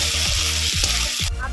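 Garlic paste dropped into reddened frying onions in a pan gives a loud, dense sizzle with a few soft stirring scrapes, close up, cutting off abruptly near the end.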